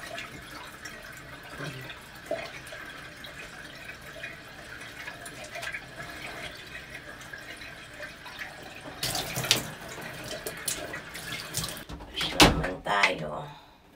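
Tap water runs into a sink during a face wash, a steady cold-water stream under a quiet voice, with louder splashing bursts and a clatter toward the end.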